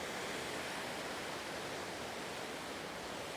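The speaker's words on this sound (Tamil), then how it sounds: "இதுலேருந்து அப்படியே தண்ணி கீழே விழுது" A hill-country waterfall in Sri Lanka, with water pouring down in a steady, dense, unbroken rush that fills the whole moment.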